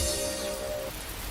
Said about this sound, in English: It is absolutely pouring down rain.